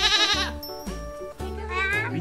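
Lambs bleat repeatedly at close range, with several wavering cries in quick succession over soft background noise.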